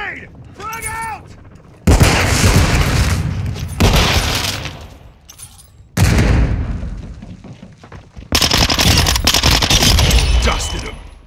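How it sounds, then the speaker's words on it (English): A grenade explosion followed by repeated bursts of heavy gunfire in Call of Duty Modern Warfare 2, loud booming blasts and rattling fire in several waves, with voices shouting in between. "Throwing grenade! Frag out!"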